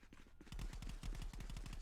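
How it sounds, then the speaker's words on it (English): Rapid bursts of automatic gunfire crack out in a Contractors VR multiplayer match where grenades are also flying, starting after a brief quiet moment and continuing as dense, overlapping volleys. "looks like the match has already begun as nades are coming out along with gunshots"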